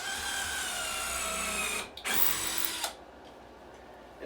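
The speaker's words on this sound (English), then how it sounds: "quick release drill again" A quick release cordless drill drives screws into 2x4 lumber, a loud high whirring run of nearly two seconds, then a brief pause and a second shorter burst ending with a click, followed by quiet.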